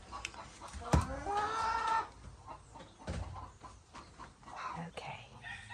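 A mother hen makes soft, low clucks and murmurs while settling over her chicks, with a brief louder squawk early on and a person talking quietly nearby.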